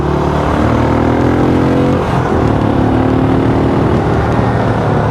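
Benelli Imperiale 400 motorcycle engine running steadily while riding, a loud continuous drone that dips briefly around a gear change, then settles at a constant low cruising pitch with wind noise.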